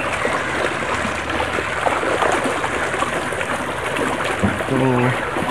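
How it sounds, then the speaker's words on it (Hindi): Water runs steadily through a canal beside a village, a continuous close rushing wash that fills the whole stretch, with a brief low hum near the end. "वो साथ ही नहर है उसमें से पानी आ रहा।"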